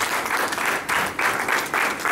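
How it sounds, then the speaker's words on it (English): Church congregation claps during a sermon, a loud, close burst of applause arriving in pulsing waves, with short dips between surges and no speech on top. "Clap for God."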